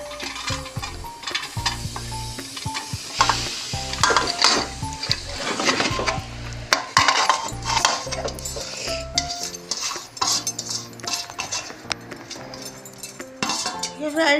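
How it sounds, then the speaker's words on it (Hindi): Grated carrots for carrot halwa tumble into a large cooking pot, metal clanks and scraping of utensils against the pot sounding close and busy with repeated knocks and a light sizzle, no voices heard. "ये सारी गाजरें हम इसमें डाल रहे हैं"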